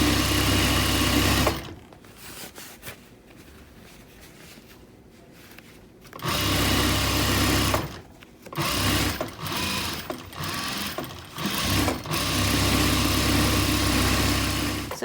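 Sewing machine stitching a fabric seam for a pouf ottoman cover, running loud in short bursts with brief pauses and stops between runs.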